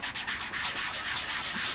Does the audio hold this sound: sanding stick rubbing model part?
yes